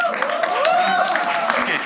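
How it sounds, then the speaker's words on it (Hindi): Applause and cheering from a live comedy show audience, a steady wash of clapping under a voice talking with a rising, sliding pitch, lasting a couple of seconds. "एक बार जोरदार तालियों के साथ"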